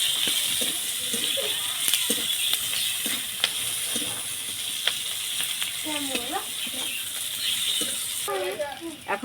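Onions with garlic and chili fry in a pan with a steady, close sizzle and scraping stir strokes, while a voice briefly speaks over it.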